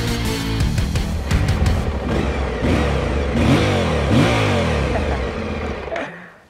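An Aprilia Tuareg 660 motorcycle engine revs up and accelerates with a rising roar, holding loud and close before cutting off abruptly at the end.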